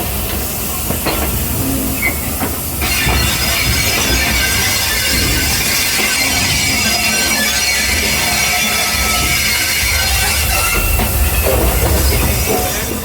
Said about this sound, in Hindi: अभी ट्रेन वापस जाएगी स्टेशन की तरफ।